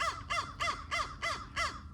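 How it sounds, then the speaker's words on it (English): A crow caws six times in a steady, evenly spaced series from a dead tree in a rural cemetery, each harsh call loud and clear over a faint low background rumble. "There is a turkey vulture and a black crow on that dead tree."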